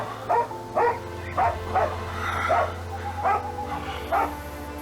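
A dog barks repeatedly in short, evenly spaced bursts, fairly close and loud, over a constant low background hum.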